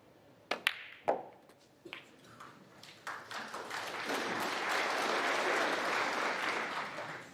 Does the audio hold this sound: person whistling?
no